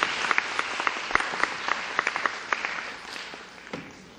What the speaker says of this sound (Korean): 박수도 한번 세게 한번 쳐주십시오